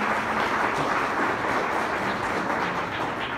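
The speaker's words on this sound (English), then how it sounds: "20 years this week, Neil, we clap for you." A crowd clapping in honour of a couple's 20th wedding anniversary, a thick, even wash of applause filling the room without pause, loud and close.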